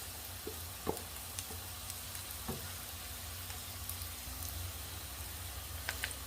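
Onions frying in a pan for Sylheti chui pitha bhaji, a soft continuous sizzle with occasional faint pops and stirring clicks, quiet and close with no talking.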